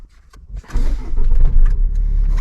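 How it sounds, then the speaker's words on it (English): A car engine cranks and catches, then settles into a steady idle close by, with some rattling and clicks at the start. "let's start the engine also."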